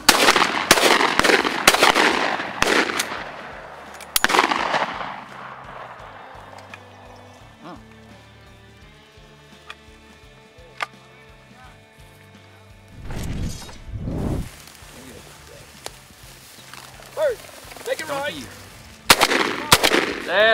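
Shotgun blasts during a quail hunt, a quick volley of sharp reports at the start, then a few later isolated shots, with people talking between them and other faint outdoor noises.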